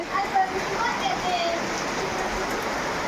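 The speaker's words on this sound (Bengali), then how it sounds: "আপনাদেরকে আমরা দেখাচ্ছি বৃষ্টি হচ্ছে" Steady rain pouring down in a dense, even hiss, with a person talking under the downpour.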